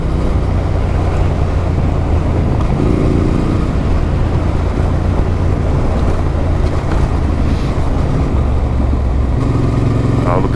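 A Yamaha Ténéré motorcycle engine drones steadily while riding, loud and continuous, with wind rumble and small shifts in engine pitch throughout.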